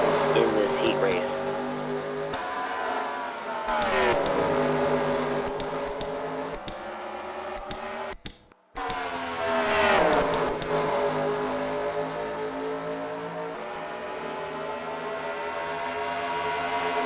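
Race cars lap in a dirt-track heat race, engines droning and rising and falling as they pass, some near and some farther off, under continuous commentary.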